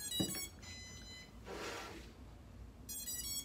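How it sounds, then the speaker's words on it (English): High, thin electronic beeps sound in short tonal bursts as an Altair Aerial Dagger drone pairs with its remote transmitter, a few spaced apart, faint and close, with a soft whoosh of noise in between. "then you'll hear that series of beeps."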